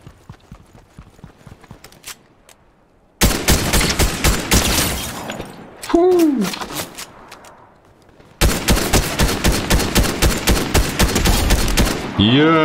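Rapid automatic gunfire in the video game Fortnite comes in long, loud, evenly paced bursts, with a quieter stretch of scattered shots, a brief falling whistle in between and a pause before the final burst.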